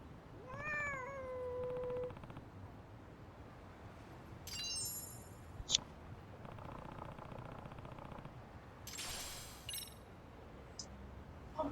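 A cat in the video game Lost Judgment meows in a couple of short rising-falling cries, moderately loud against quiet game ambience with a few scattered chimes and clinks; no one talks.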